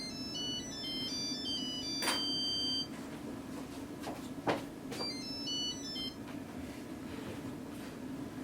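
A mobile phone plays an electronic melodic ringtone in two bursts of rapid stepped beeps, fairly quiet and set in a room with a few soft knocks and handling noises between the phrases.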